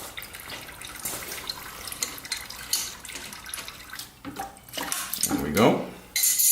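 Coolant drains from a hose on a BMW S1000RR motorcycle: a close, splashing trickle of liquid with uneven gurgles and spurts, building into a stronger pour near the end.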